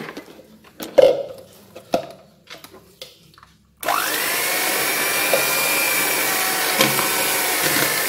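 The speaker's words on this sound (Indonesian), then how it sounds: "dengan sepet rendah terlebih dulu terus saya lanjutkan dengan sepet tinggi ini di mixer sampai ringan" An electric hand mixer whips a Nutrisari ice cream mixture, starting abruptly after a few quiet knocks and running as a steady, loud whirring drone for the rest of the stretch, with no talking.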